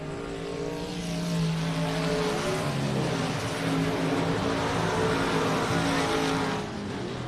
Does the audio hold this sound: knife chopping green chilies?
no